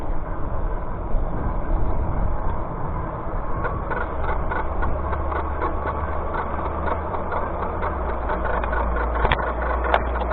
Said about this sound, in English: So this is a Fat Tire bike.